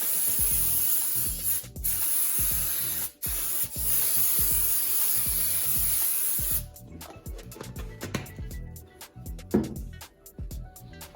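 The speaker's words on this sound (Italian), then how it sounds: "io ho comprato uno spray distaccante senza solvente" A can of solvent-free release agent spraying in a long, steady hiss broken by short pauses, then shifting to scattered rubbing and scuffing noises.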